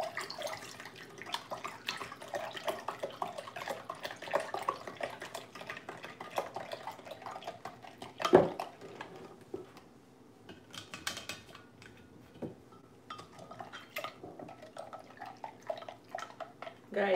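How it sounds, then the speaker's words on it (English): A jug of Jamaican sorrel and pineapple drink being stirred, with faint liquid swishing and spoon clinks running steadily under the room's quiet, plus a louder knock partway through. "So now we're gonna stir it up."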